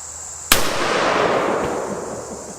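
A single close, sharp gunshot from a .460 Smith & Wesson fired into a body armor vest outdoors, a loud crack followed by a long rolling echo that fades over two seconds.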